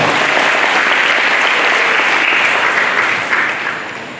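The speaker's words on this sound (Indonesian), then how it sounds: "Tepuk tangan untuk kita semua." Audience of university students applauding at a campus event at Universitas Muhammadiyah Kupang, a dense, even roar of clapping that holds steady and then tapers off near the end.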